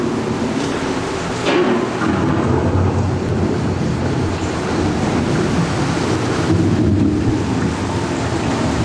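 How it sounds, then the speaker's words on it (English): Thunder from an approaching storm rolls as a steady, loud rumble, with a heavier crack near the start and another swell toward the end. "The approaching storm may seem violent and destructive to us"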